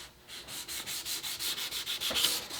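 Rhythmic strokes of 180 grit sandpaper scrub back and forth across a wooden rifle stock held in a vise, fairly quiet and close, with no talking.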